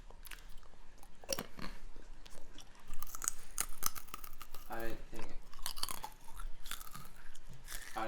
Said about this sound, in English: Nice little crunchy nibble of this big hoop